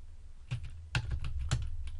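Keys clack on a computer keyboard in short bursts, several close, crisp taps at an uneven typing pace with no voices.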